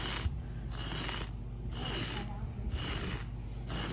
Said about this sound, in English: This really feels like a sweater that I'm lint rolling to get the top off.